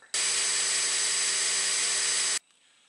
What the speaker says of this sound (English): we're going to finish the edge on our flat belt sander here